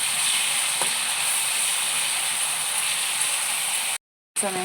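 Moringa drumsticks fry in oil in a pan for a masala curry, giving a steady, loud, close sizzle. The sizzle cuts out briefly near the end, then returns.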